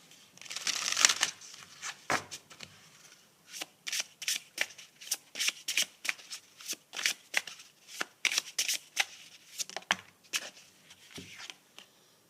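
A deck of tarot-style reading cards is shuffled by hand in a quiet room, with a rapid riffle at the start followed by a long run of short, crisp, evenly spaced slaps and flicks, close and clear.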